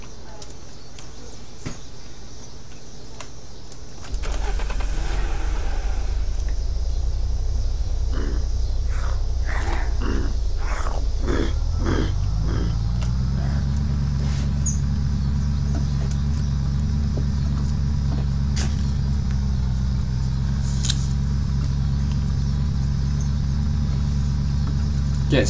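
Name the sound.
car engine starting and running in the video game Unturned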